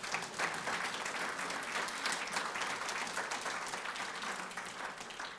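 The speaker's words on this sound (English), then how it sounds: "Give them all a round of applause." Sustained applause from a seated audience at an honorary degree dinner honoring faculty, dense steady clapping filling the room throughout with no talk.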